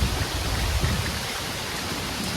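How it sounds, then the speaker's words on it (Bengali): Light rain in a village, a steady, soft broadband hiss that holds even across the whole moment, with no voices. "হালকা হালকা বৃষ্টি হইতেছে"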